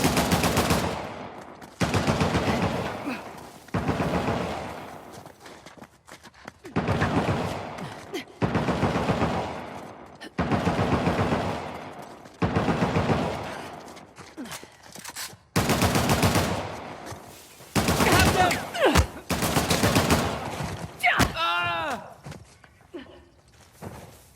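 Gunfire rattles through a firefight in the video game Uncharted: The Lost Legacy, in the Western Ghats. Loud, sustained automatic bursts repeat in long blocks with short gaps, ending in ringing metallic echoes.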